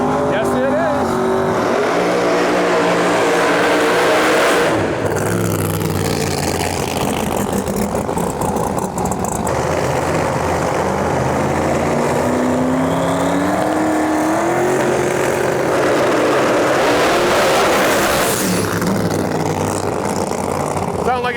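Twin turbo Pro Mod drag race car making a pass at Bradenton Motorsports Park during World Series of Pro Mod testing, a loud sustained engine roar that rises and falls throughout with talk layered over it.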